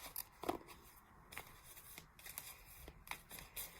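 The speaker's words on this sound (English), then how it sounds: "I'm just going to shuffle these for you" A tarot card deck being shuffled by hand: quiet, close, irregular papery riffles and soft taps spread across a few seconds, alone without talk.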